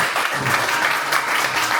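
An audience at a cultural heritage seminar at Bucheon Cultural Center claps warmly for honored staff, a dense, even burst of many hands close by and loud throughout.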